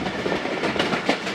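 The Khyber Mail passenger train rolls along the ML1 line toward Peshawar, a steady rumbling rush of carriages on rails with faint rhythmic clatter, close and continuous.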